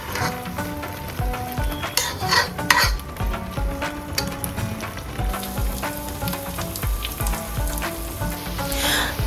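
Pulao with fried onions and green chillies, for hilsa pulao, is stirred in a pot: close sizzling and frying with repeated scraping and clinking of the spoon in an uneven rhythm.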